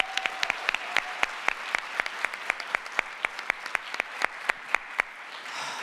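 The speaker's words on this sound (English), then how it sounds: "One more round of applause for everybody." A health summit audience claps steadily in a room, a dense run of sharp, even hand claps lasting several seconds before tapering off.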